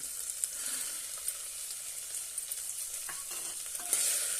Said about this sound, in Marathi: ते पण परतून घेऊया आता आपण यामध्ये मूग घालूया